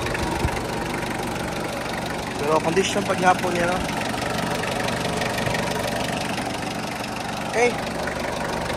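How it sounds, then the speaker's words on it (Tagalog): A 2014 Mitsubishi Adventure manual idles steadily in the background with a low, even hum, while people talk over it and a few faint clanks come through. "So mo na yung makina sa adventure no, sa 2014."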